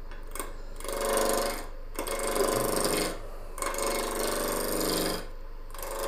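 A wood lathe spins a turning blank while a tool trues it up, giving loud, rough scraping cuts in several long passes separated by short pauses.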